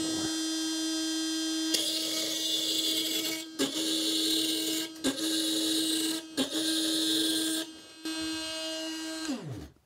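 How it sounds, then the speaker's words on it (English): A Milwaukee M12 brushless oscillating tool cuts through nails with a loud, steady, high buzzing whine up close. It pauses and restarts a few times, then winds down at the end. "I'm going to cut through some nails."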